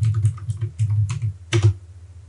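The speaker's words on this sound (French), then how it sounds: "Je tape mon code PIN." A PIN code being typed on a computer keyboard while setting up a YubiKey 5 NFC security key, with clusters of close, crisp keystrokes in bursts and short pauses.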